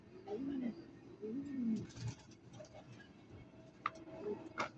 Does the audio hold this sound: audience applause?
no